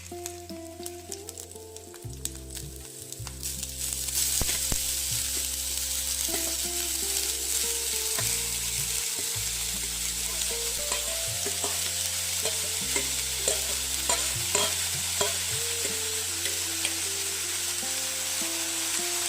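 Chopped spinach (palak) is stirred into a curry frying in a pan, with a bright, steady sizzle and scraping stirs that run throughout over a tonal background that sounds like music.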